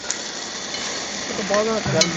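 Continuous sizzling and crackling of spices tempered (tadka) in hot oil for a white chickpea curry, with a faint voice briefly in the background near the end.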